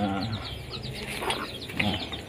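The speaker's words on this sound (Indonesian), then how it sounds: "ini anak ayam biasa" High, rapid cheeping from a group of young domestic chicken chicks, continuous and overlapping, fairly close, with some low clucking underneath.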